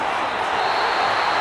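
Steady, dense roar of a stadium crowd in a Madden 25 football game between the Broncos and Jets, a continuous wash of cheering with no breaks.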